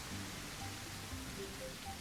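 Heavy rain in the Terryx video game, a dense, even wash of falling water that stays at one steady level from start to finish, with no voices over it.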